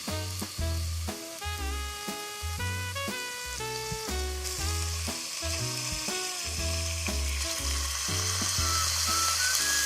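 Ground beef frying with onion in a pan for chili, a loud close sizzle interrupted by rhythmic low thumps and tonal clatter, with the hiss building steadily toward the end.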